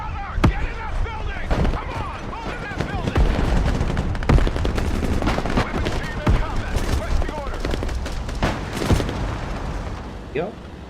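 Gunfire in the video game Broken Arrow: rapid machine-gun bursts and scattered single shots crackle continuously with distant booms, while voices talk over the battle.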